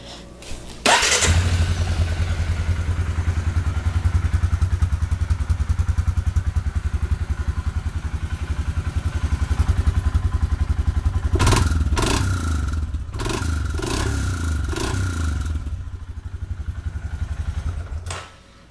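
A Suzuki KingQuad 400 ATV engine starts with a thump and then idles loudly with a steady rattling chug, revving briefly toward the end.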